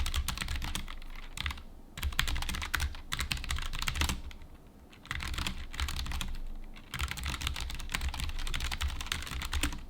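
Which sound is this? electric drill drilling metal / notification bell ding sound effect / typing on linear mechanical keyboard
typing on linear mechanical keyboard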